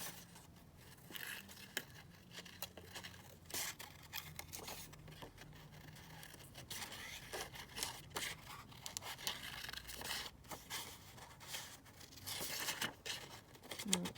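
Scissors cutting a picture out of a book page, soft close snips and crinkling paper in an irregular run of small bursts, faint and alone.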